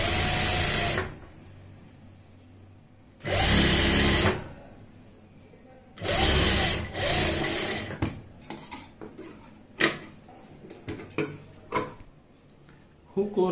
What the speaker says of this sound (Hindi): यहाँ पे इस तरीके से फोल्ड करते हुए हम कच्ची सिलाई लगा लेंगे